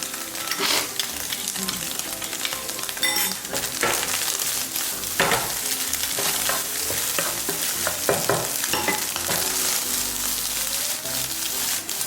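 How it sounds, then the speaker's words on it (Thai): Eggs are stir-fried with seasoning for a Thai chili-salt egg dish. A spatula scrapes and tosses constantly against the pan over a bright, steady sizzle, close and loud, with no voices. "ทุกคนคั่วจนแบบรู้สึกว่าแบบทุกอย่างเข้ากันดีแล้วปิดเตาได้ค่ะ"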